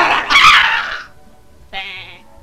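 A sheep bleats loudly up close in one long, wavering cry, then gives a shorter second bleat after a brief pause, with no talk over it.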